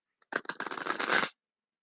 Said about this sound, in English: So we'll do one more shuffle.